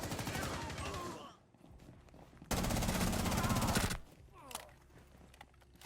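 Rapid automatic gunfire in a video game, two dense, close bursts of about a second each separated by a short pause, followed by scattered single shots and quieter action sounds.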